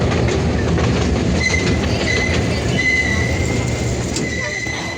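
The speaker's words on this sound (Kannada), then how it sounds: "ಈ ಟ್ರೈನ್ನ ಮಿನಿ ರೈಡ್ ಏನು ಕರ್ಕೊಂಡೋದ್ರು ಅದು" Mini train ride at a museum in Mysuru, a loud, close rolling rumble with rhythmic clickety-clack and thin wheel squeals running throughout, faint people in the background.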